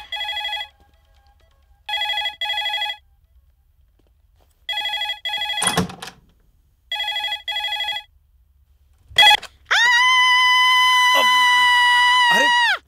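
Telephone ringing in a South Indian action movie: repeated bursts of an electronic ring in paired pulses with pauses, interrupted by a brief cry or shout, then a sustained loud tone.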